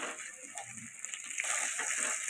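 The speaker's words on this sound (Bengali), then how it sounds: "ওই পেঁয়াজ আর টমেটোর যে পেস্টটা করে রেখেছিলাম ভেজে নিয়ে সেটা দিয়ে দিচ্ছি তেলের মধ্যে" Onion and tomato paste poured into hot oil for a Bengali katla kaliya fish curry, crackling and sizzling steadily close by and growing louder and fuller toward the end.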